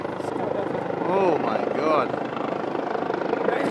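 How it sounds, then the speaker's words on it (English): A helicopter comes in to land on the outfield of a college baseball field at Merrimack, its rotor roaring loud and steady while a voice exclaims close by. "About to land a fucking helicopter in the outfield."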